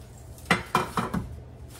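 Four quick metallic clanks of small metal loaf pans being set down and handled, close and fairly loud, in a short even sequence.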